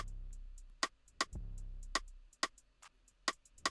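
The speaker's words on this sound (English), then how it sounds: "and a rim shot, which sounds like this." A rim shot percussion sample from an FL Studio Afro house beat clicks out a sharp syncopated pattern of crisp wooden hits, with softer ghost taps between them and a brief low thump early on.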